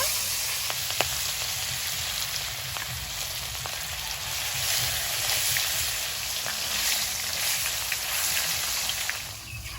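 Katla fish pieces fry in hot oil in a wok, giving a dense, continuous hissing sizzle with occasional small pops, close and steady, without speech.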